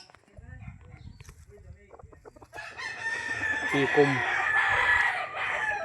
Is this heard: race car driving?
no